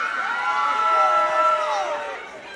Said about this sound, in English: Every time I mention this dude's name and say that he's a genius, the crowd goes crazy.